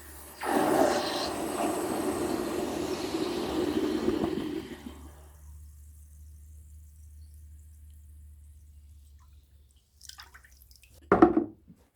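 A hot cast aluminium bear hits water and sizzles loudly for about four seconds as it quenches, then fades to quiet bubbling, followed by a couple of sharp metallic clanks.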